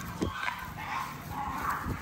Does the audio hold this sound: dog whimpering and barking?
yes